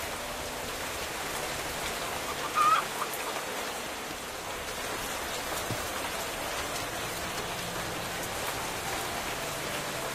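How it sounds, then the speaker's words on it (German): Steady rain from the game Minecraft, a dense even hiss of falling drops that runs unbroken the whole time at a moderate level, with a brief slightly louder patch early on. "Ich kann nur hoffen, dass der Sound nicht zu laut ist hier mit diesem Regen."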